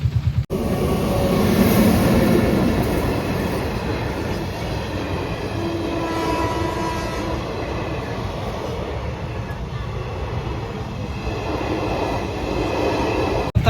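A train rolls past close by at a crossing, a long steady rumble of wheels on rails with rhythmic clatter and faint squealing throughout.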